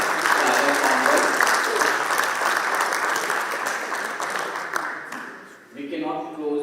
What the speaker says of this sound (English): A big round of applause to all the startup founders.